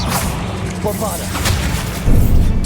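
Blasting Bombarda spell going off in Hogwarts Legacy, a booming impact with whooshes and a second heavy thump near the end, layered over busy game noise and speech.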